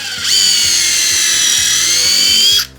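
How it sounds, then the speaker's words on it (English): A power drill bores holes into wooden framework during a Japanese home renovation, one steady high-pitched whine lasting over two seconds, loud and close, starting and stopping sharply with a faint low rhythmic knocking underneath. "So I got my drill."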